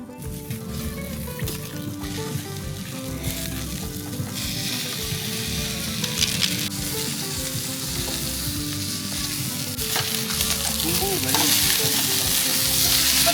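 Food sizzling on a grill over very hot charcoal at a farm boodle fight, a steady close crackling fry that swells slightly louder toward the end, with no talk.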